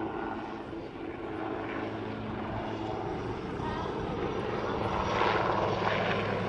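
A Westland Lynx helicopter flies at the Dunsfold airshow, its engine and rotor giving a steady, broad roar from a moderate distance that swells slightly near the end, with no talk.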